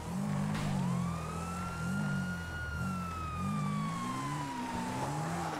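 An ambulance siren wails in the Grand Theft Auto V video game, a loud, continuous rising and falling tone that holds steady over a low rumbling engine and traffic noise.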